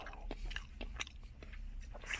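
A crunchy raspberry-filled pastry is bitten and chewed up close, making a series of crisp, irregular crunches at a fairly quiet level.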